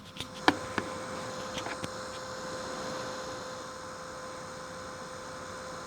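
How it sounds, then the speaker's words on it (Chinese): A small cooling fan inside a USB UVC-to-HDMI converter makes a steady, fairly quiet whirring hum with a faint tonal whine. A few light clicks come near the start, and no one speaks. "它是有个电风扇的声音， 蛮吵的。"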